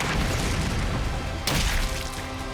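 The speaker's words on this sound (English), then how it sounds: "Chain bomb! Chain bomb!" A chain bomb blast in The Hundred Line video game, a loud broadband boom landing midway that swells over a dense, continuous roar of game noise, with no talk over it.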